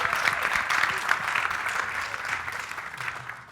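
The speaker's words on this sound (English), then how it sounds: "Sorry, applause." Audience at a mentoring event with world-class athletes claps steadily in a full, sustained round of applause that gradually thins toward the end.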